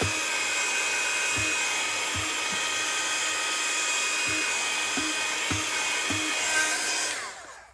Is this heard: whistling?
no